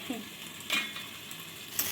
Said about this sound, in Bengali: আর এই দেখো আলু ভাজা হচ্ছে